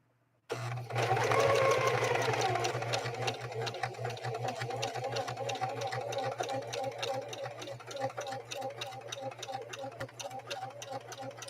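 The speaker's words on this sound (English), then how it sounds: "We're going to lay down a type of a blind hem, and we'll see what we get, right? Here we go." A Singer 4411 heavy-duty sewing machine stitches a blind hem on polyester fleece: a close, steady mechanical whirr with rapid needle clatter that starts abruptly and runs continuously at an even pace.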